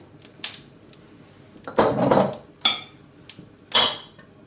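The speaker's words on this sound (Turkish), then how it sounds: "Ocağa tencereyi alın ve altını açın." A metal cooking pot is set onto a kitchen stovetop while bulgur pilaf is being prepared, giving several sharp, close clanks and knocks of metal on metal separated by brief pauses.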